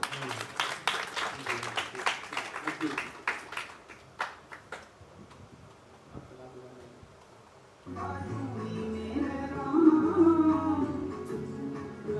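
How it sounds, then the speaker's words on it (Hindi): A group claps hands in rhythm for several seconds during a spiritual session, fading out before a voice speaks over a low background drone. "तालियां बजाओ भाई"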